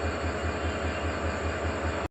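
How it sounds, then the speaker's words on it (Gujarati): Train at Viramgam railway station, a continuous loud low rumble of rolling carriages with a steady rhythmic thump, close by, ending abruptly. "આ છે વિરમગામનું રેલવે સ્ટેશન"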